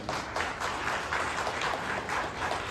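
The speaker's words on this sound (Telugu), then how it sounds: "వాళ్ళకి మనం అద్భుతమైన అప్లాజ్ ఇవ్వాలి." An audience at a Republic Day gathering of a bar association in Eluru applauds judicial officers, a soft, fairly distant patter of many hands clapping in loose uneven waves.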